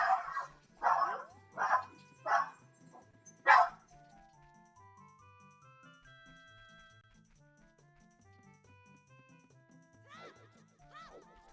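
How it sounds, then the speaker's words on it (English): An excited dog barks five times in quick succession at close range, then goes quiet under a soft background of video game music, with a few higher yips and whines near the end. "Dog losing her mind."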